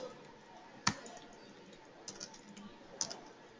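Sparse keystrokes on a computer keyboard while code is entered: one sharp, close click, then a couple of lighter taps and another distinct click, separated by quiet pauses.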